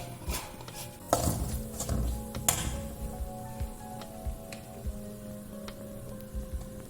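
A spoon stirs chilli and coriander powder through a prawn curry in a pan, with scraping and clinks of metal against the pan at irregular intervals and a faint sizzle underneath.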